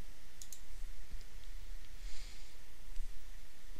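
A computer mouse clicks several times in quick, light, close taps, scattered irregularly across a steady background hiss with no talking.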